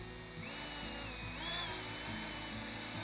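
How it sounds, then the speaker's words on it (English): A power drill winds fishing line back onto a spool, its motor whining steadily at close range with a brief pitch dip and rise midway, running alone without talk. "now you can use the power of the drill to put the line back on the spool."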